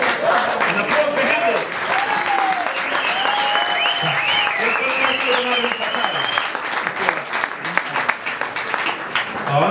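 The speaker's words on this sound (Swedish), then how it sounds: "En applåd för" Audience applause greets a man walking with the host toward a stage at a Swedish kickoff event, sustained dense clapping running throughout, with cheering voices and talk mixed in over it.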